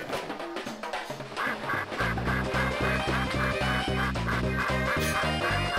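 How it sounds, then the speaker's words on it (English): Duck-like quacking voice from Donkey Kong Country 3 on the Game Boy Advance, a few short quacks sounding over steady, loud game music with a pulsing low beat. "She sounds like a duck."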